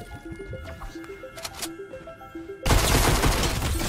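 Gunshots ring out in the video game Fortnite: a quick series of sharp shots over game music, then a loud, dense burst of rapid fire that fills the last second.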